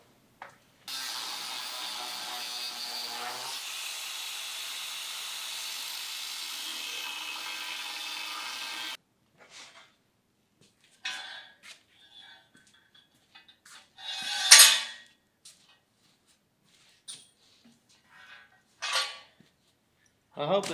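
Power saw cutting a window opening in a 1931 Ford Model A Roadster body, a steady harsh buzzing cut for several seconds, then scattered knocks and metal clanks of handling the panel.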